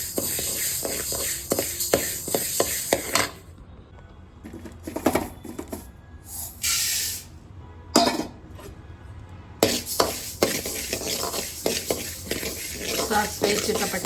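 Whole spices for sambar powder (fenugreek, cumin, poppy seeds, mustard, cinnamon, cloves) being dry-roasted and stirred in a pan, giving irregular scraping and rattling, louder at the start and end with a quieter stretch in the middle.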